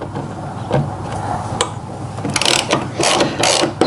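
A hand ratchet clicks as bolts come out on a 2024 Ford Bronco Outer Banks during a pinch weld cover install, bursts of quick metallic ratcheting in short runs, close up and fairly loud.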